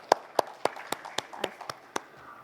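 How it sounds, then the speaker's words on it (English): Sparse, evenly spaced hand claps, about eight or nine crisp strikes, ring out in a room at a corporate presentation, moderately close and without talk. "Can we have a big round of applause for Dr."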